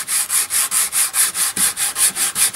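Hand sanding of brushed shellac finish on a guitar body with P180 sandpaper gives a steady, close, rhythmic back-and-forth rasp of about a dozen even strokes, with no voices.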